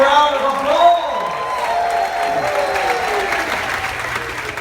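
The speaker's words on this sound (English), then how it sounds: "Please give them a huge round of applause." Audience applause on a cruise ship as crew representatives parade, a dense wash of clapping with scattered cheers and whoops, steady and loud throughout with a voice briefly heard over it.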